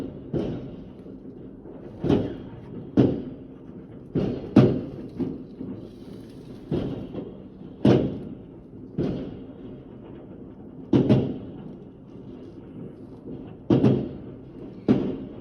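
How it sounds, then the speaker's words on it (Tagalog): Repeated dull booms and thuds from distant New Year's fireworks go off irregularly, a dozen or so bursts, some in quick pairs, with no voices. "Ang daming fireworks."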